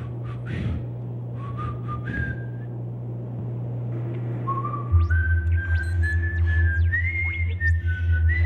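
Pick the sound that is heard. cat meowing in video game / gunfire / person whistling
person whistling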